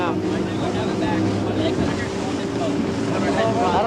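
A boat engine drones on open water near a Tampa bridge, a steady low rumble mixed with wind buffeting and splashing waves, with voices talking over it.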